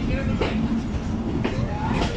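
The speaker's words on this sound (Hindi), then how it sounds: "फरीद एक्सप्रेस इस वक्त प्लेटफॉर्म नंबर 4 पर पहुंच रही है लोधरा जंक्शन के" Fareed Express train arriving at platform 4 of Lodhran Junction, heard from on board in rain as a steady low rumble with faint rhythmic wheel clacks, close and continuous.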